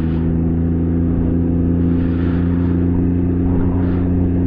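A Can-Am Ryker three-wheeler carries two riders at maximum weight through city traffic. Its engine hums in a loud, steady, close drone, with no talking over it.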